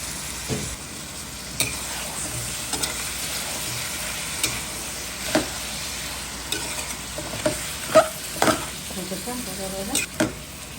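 Pieces of tough cock chicken fry with onions and spices in a pan, a steady close sizzle punctuated by scattered spatula knocks and scrapes that grow busier toward the end.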